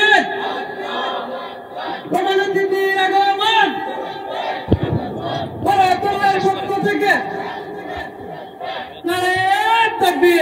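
A large crowd at an Islamic religious gathering in Bangladesh chants takbir together. Loud collective shouts rise in several repeated waves, with a brief break between them.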